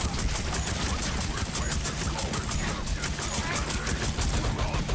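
Dense gunfire from the Warhammer 40,000: Shootas, Blood & Teef video game, a steady loud barrage of shots and bursts filling the whole stretch with a continuous clattering roar.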